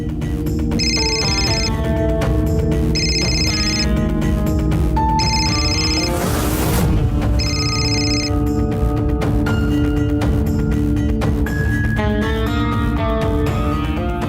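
A phone rings repeatedly in evenly spaced electronic bursts over continuous loud background music.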